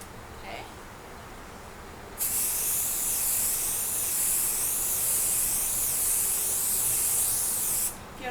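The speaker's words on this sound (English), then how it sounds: "you can run some basting spray right there and kind of hold that" Basting spray hisses onto quilt backing in one loud, continuous burst of about six seconds, close to the listener, with a brief faint spritz beforehand.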